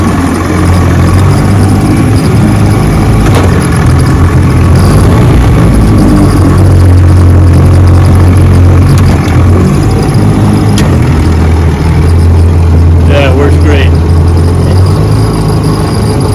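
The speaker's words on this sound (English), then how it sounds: "Open her up and show you how she runs." A sixty-year-old Johnson 10 HP outboard motor runs loud and close at a steady, rough drone, the engine holding a constant pace without speech.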